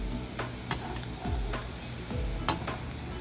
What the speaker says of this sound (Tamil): மீடியம் ஃப்ளேமில் வச்சுட்டு இதை மெதுவாக நாம் பொரிச்சு எடுக்கணும்.